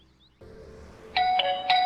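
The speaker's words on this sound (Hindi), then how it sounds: "लो घंटी बज गई" A household doorbell gives a short ding-dong chime in a quiet room, two bright tones close together after a brief low hum, in a Pakistani TV drama scene.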